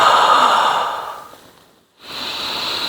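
A single breathy exhale during a core and triceps dumbbell exercise, a soft airy sigh heard close up that fades out before a brief silence, followed by faint room tone.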